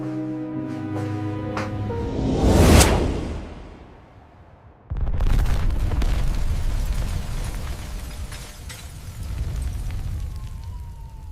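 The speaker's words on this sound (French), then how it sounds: "Explosion in Steve's downtown office building" An AI-generated film shows an explosion in a downtown office building: a roaring blast swells to a loud peak over music, drops to near silence, then a heavy rumbling aftermath continues.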